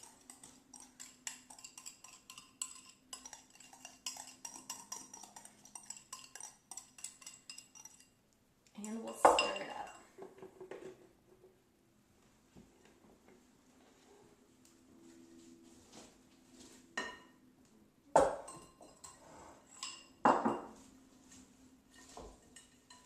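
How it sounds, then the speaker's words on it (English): A spoon clinks and scrapes in a bowl while broccoli salad with almonds and dressing is stirred, in quiet intermittent bursts broken by pauses and a few louder knocks. "now that we have it all stirred and mixed together"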